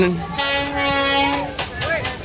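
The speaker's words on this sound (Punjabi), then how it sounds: "ਰੇਲ ਗੱਡੀ ਆ ਰਹੀ ਆ" Rail noise with a tonal horn-like sound holding steady, then bending in pitch, over a rumbling background, with some brief voice sounds mixed in.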